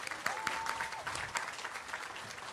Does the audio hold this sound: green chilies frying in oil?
no